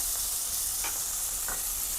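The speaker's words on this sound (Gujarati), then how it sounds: "તેલ થઈ ગયું છે, આપણે 2 સમારેલી ડુંગળી એડ કરશું." Two chopped onions sizzle loudly and continuously in hot oil, with a couple of soft stirring scrapes.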